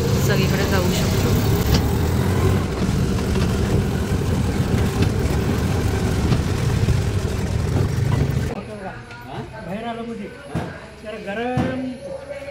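A rented auto rickshaw in the narrow lanes of Akkalkot drones loud and steady for most of the stretch, then the engine noise drops away and voices talk over a quieter background.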